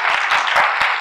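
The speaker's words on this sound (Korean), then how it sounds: "박수 한번 드릴까요?" Seminar listeners at a Korean leadership forum clap in a short burst, a few rhythmic peaks standing out from a steady spatter of hands, fairly close and loud, with no talking.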